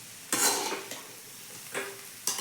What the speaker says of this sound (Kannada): ಈಗ ನಮ್ಮ ಮಮ್ಮಿ ಪಲ್ಯ ಮಾಡಕ್ಕೆ ಕೋಸುಗಡ್ಡಿನ ಹುರ್ಕೊಳಕತ್ತಾರ ನೋಡ್ರಿ